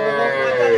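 A cow, a desi dairy cow with its calf, moos at a busy rural cattle market, one drawn-out low call sustained near and loud over the crowd's murmur.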